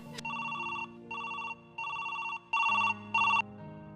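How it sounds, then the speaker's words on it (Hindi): An electronic telephone ring sounds five times in quick bursts, each a bright two-tone trill over a quiet low musical hum. The ringing is clear and close, and no one speaks. "लो ये लो, बैल जा रही है"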